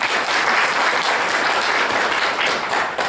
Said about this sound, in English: whenever I take a drink, you start clapping